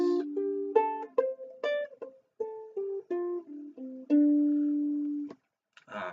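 A plucked ukulele plays a quick run of single notes up and down a pentatonic minor scale, ending on a held low note, with a short noisy burst after.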